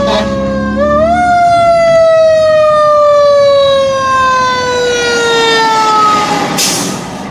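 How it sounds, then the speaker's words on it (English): A fire truck siren wails loud and close while the driver waits at a left-turn signal, a sustained tone that rises sharply then slowly falls in pitch, with heavy engine rumble underneath and a brief horn blast near the end. "fire truck are coming, so I don't know what we're gonna do here."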